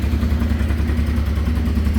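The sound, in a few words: 1989 Honda Transalp 600V engine idling on cold start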